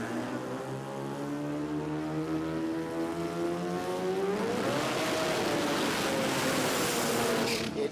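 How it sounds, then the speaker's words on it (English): A quad-rotor rotary engine race car at a drag-racing jamboree, a loud, steady buzzing roar that climbs in pitch as it revs up and pulls away, with no talking over it. "Now, it doesn't sound like a 20B. It sounds like just a really big two-rotor."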